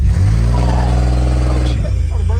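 A car engine revs hard while held on the foot brake to build turbo boost, a loud sustained drone with rising harmonics that cuts off abruptly near the end, close up inside the car.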